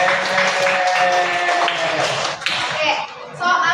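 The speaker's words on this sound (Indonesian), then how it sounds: "Makasih Rapli, beri tepuk tangan dulu dong" A group of children claps together in a classroom under a teacher's voice, a short burst of clustered hand claps mixed with chatter and speech.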